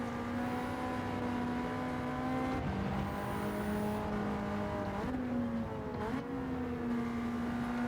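A Ford Sierra RS500 Cosworth race car in Gran Turismo 7 holds a steady, buzzing engine drone at speed. The pitch dips briefly at a few gear shifts before settling again, with no talk over it.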